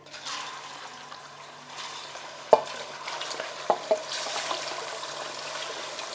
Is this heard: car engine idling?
no